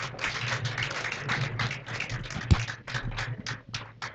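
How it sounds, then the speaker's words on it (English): Audience applause fills a job fair hall as company officials are welcomed, a steady, dense patter of many hands clapping throughout at moderate loudness. "Please give a huge round of applause"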